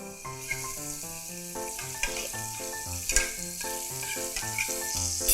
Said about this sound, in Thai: เริ่มจากเอากระทะนะคะตั้งไฟแล้วก็ใส่เนยลงไปค่ะ